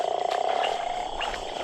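A male toad calls during a short breeding season, giving a steady low, rapidly pulsing trill that runs continuously and fairly close, with no voices.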